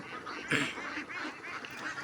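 Ducks on a small duck farm, a loud honking burst near the half-second mark followed by a steady jumble of quacks and calls close by, with no talking.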